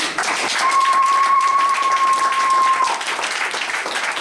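A church congregation in Lyon applauds and cheers to acclaim the Lord: dense, steady clapping fills the hall throughout, with a thin sustained tone ringing through the middle.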